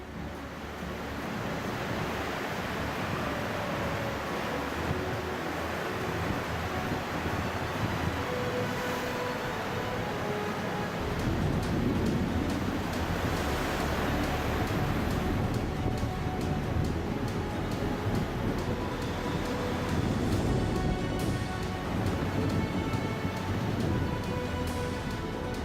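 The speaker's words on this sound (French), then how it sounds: "Le vent souffle toujours, la mer bouillonne au passage du bateau" Strong wind and rough water churn past a ship crossing the Beaufort Sea, a continuous broad roar of wind and rushing sea, steady and close, with gusts swelling mid-way and no voices.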